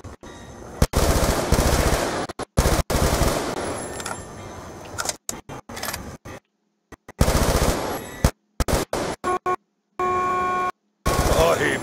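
Automatic gunfire in Call of Duty Black Ops 2 Zombies, loud rapid bursts of machine-gun fire broken by short silences and a few single shots, with some beeps.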